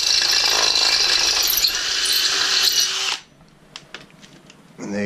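A power drill with an 8.5 mm bit bores a hole for tapping a bolt thread, giving a steady high whine for about three seconds before it cuts off, followed by light clicks and rattles.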